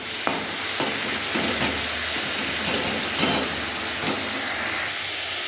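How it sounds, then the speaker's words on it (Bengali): Nate greens being stirred in a pan to dry them, giving a steady soft sizzle and hiss with a spatula scraping at a rough rhythm, close and moderately quiet. "এবার নেড়ে চেড়ে শুকনো করবো।"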